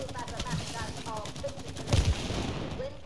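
Rapid gunfire in the co-op game It Takes Two, a quick rattling burst of shots with a heavier thump in the middle, set under game music and chatter at moderate volume.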